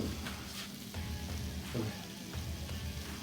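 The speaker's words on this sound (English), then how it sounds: "To that, we are going to add our flour, start making our roux." A flour roux cooks in about three tablespoons of beef tallow with a continuous soft sizzle and crackle, faint and close, with a few light stirring scrapes.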